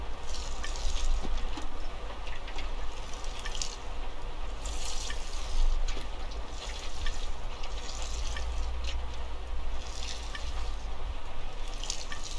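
A watering can pours over planted seeds in the video game Among Trees, a continuous splashing, trickling water stream with intermittent brighter spatters, steady and close.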